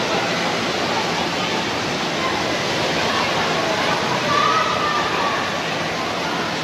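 Water cascades and splashes continuously at an indoor water park splash pad with a big tipping bucket, a loud, dense roar of falling water with steady crowd hubbub mixed underneath.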